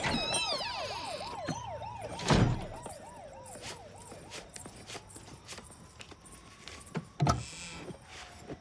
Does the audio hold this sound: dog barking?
no